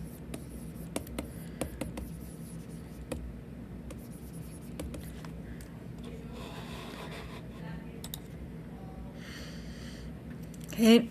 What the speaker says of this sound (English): So let's just write that as a little note.